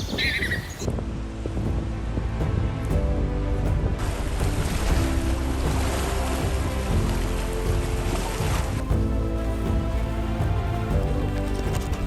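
Continuous rushing surf and wind, waves washing in and out at a steady loud level with no talking.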